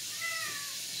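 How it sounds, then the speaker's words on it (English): A house cat meows to be let outdoors, heard in a home kitchen where cabbage and vegetables are being prepared: one drawn-out, rising-and-falling meow at moderate distance, with no talk. "our cat wants out"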